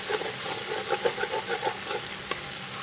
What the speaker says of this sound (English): half a cup of green onions, the bottom of the green onion. And we're going to saute this